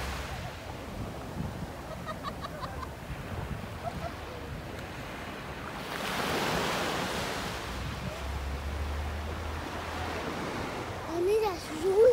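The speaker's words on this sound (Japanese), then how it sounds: "波がすごいね。" Ocean waves crash and spray along the Kamakura coast with wind buffeting the microphone, a sustained roar of surf that swells midway and stays loud throughout.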